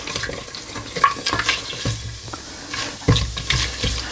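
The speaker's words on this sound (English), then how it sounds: "And just fry them for 30 seconds." Whole spices frying in hot oil in a pressure cooker, a steady crackling sizzle with stirring scrapes and a louder burst of sizzling near the end, close and without talk.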